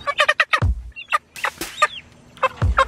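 A young rooster clucks in short bursts of rapid, throaty calls separated by brief pauses, close and fairly loud with no other sounds around it.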